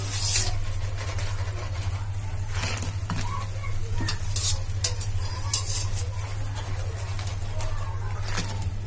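Zalabia dough balls fry in hot oil with a steady sizzle, broken by occasional stirring and scraping, close and fairly loud throughout.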